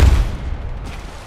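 Gunfire in a video game: one loud, close boom hits at the start, then a rumbling, fading tail.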